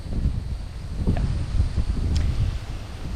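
Wind gusts buffet an outdoor microphone, a loud low rumbling roar that swells and dips continuously, with faint rustling and no speech.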